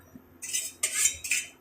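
Taro leaf curry stirred in a pot, three scraping clinks of a metal spoon against the pot's side in quick succession, close and fairly loud after a brief quiet start.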